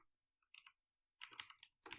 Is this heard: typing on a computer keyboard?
yes